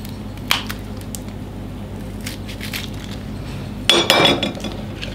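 Big red chilies being crushed with a mortar and pestle in an Indonesian home kitchen. Close, scattered scraping and grinding knocks sound against stone, with a louder crunching stretch near the end.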